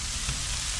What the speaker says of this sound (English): Spreading it all out. Getting it frying.